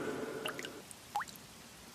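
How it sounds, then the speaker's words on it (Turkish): Water drips drop by drop indoors onto a wet carpet, a few faint, distinct plinks spaced irregularly over a quiet background hiss. "Şıp şıp Dlop dlop. Damlaya damlaya su birikiyor."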